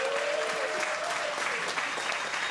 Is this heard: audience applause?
yes